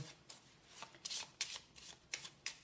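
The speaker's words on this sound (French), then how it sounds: "Elles sont bien brassées." Tarot cards are shuffled by hand up close, producing a quick series of soft, crisp riffling bursts over a few seconds.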